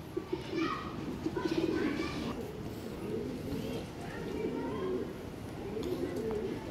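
Soft, repeated pigeon coos in a low rhythmic pattern, with voices and light outdoor bustle mixed in underneath.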